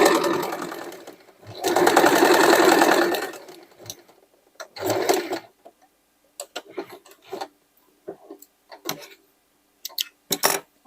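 Sewing machine stitching old denim jeans in freeform lines, a loud close whirring burst followed by shorter, scattered stitching runs and quiet gaps.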